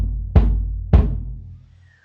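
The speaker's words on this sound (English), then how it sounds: "The bass drum is played by pressing down on a pedal that sits underneath your right foot" A bass drum is struck twice with a foot pedal, each deep thump landing about half a second apart and ringing out briefly before fading, heard alone without any talk.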